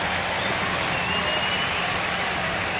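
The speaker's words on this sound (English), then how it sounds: "Randy Velarde with a little soft applause after his home run in the 5th" A baseball crowd at Yankee Stadium during a 1993 Cleveland–Yankees game gives soft, steady applause, a continuous distant patter of clapping without distinct voices.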